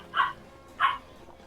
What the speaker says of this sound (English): That's my dog. Hi, doggy.